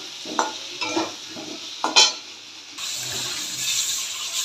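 A spoon stirs a thin, salted fish curry in a pan, a few scraping strokes giving way to a steady bubbling sizzle, close with no voices.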